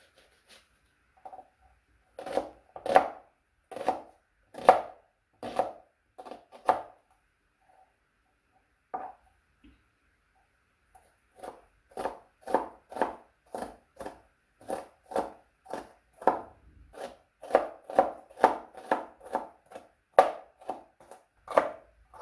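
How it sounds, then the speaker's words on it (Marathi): Onion is chopped finely with a knife on a board, bursts of sharp, rapid, close taps separated by short pauses and a longer gap midway, no talking. "हा एक कांदा मी बारीक चिरून घेतलेला आहे."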